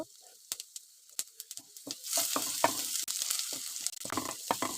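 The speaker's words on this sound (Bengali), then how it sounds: "থেতো করা রসুন আর দিয়ে দিলাম জিরা দু এক মিনিটের মতো ভেজে নিব" Crushed garlic and cumin seeds go into hot oil for a lentil dal, starting with scattered clicks and pops before a continuous loud sizzle builds, with utensil taps throughout.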